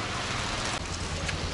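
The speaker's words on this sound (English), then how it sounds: "It started to rain now." Rain falling outside in Bangalore, a steady dense hiss of drops with street traffic mixed in, continuous and fairly loud, no voices.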